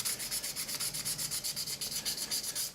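Rhythmic back-and-forth hand sanding of brass belt fittings, a steady scratchy rasp repeating roughly every fifth of a second, close and even.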